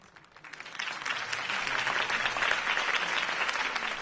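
A crowd bursts into sustained applause after Harvey Dent's campaign speech in Telltale's Batman game, dense clapping swelling within half a second and holding steady to the end.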